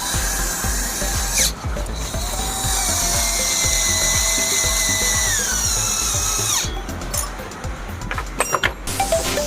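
Power tool driving screws into a grass cutter during servicing, a close, loud whirring drill with rising and falling pitch sweeps, short bursts separated by brief pauses and a few clicks near the end.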